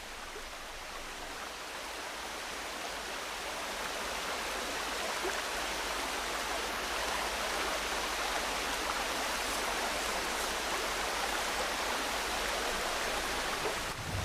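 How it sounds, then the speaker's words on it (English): A rainstorm pours over a mangrove forest standing in the sea, a dense, steady hiss of rainfall that builds a little at first, then holds loud and constant throughout. "A rainstorm arrives, providing an opportunity for the mangroves to absorb some fresh water."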